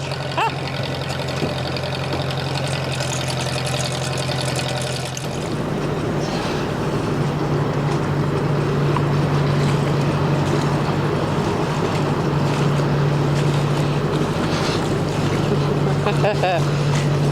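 A vehicle's engine drones steadily while mud bogging through a wet swamp ditch on a woods path during firewood hauling, with the rumble strengthening and staying loud and continuous as it pushes through; voices are faintly present.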